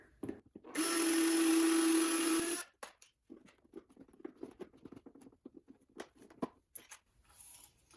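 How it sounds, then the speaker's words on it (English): A power drill with a 1/4 inch bit drilling out rivets on a BMW E90/E92 door handle whines loudly at steady speed for about two seconds, then stops, followed by scattered clicks and handling noises nearby. "I'm using a 1/4 inch drill bit here"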